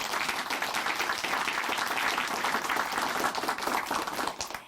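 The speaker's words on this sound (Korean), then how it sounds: "다시 한번 박수 보내드릴게요." A church audience applauds after a guest's testimony on a Korean faith show, a fairly soft, even patter of many hands that carries on and fades at the very end.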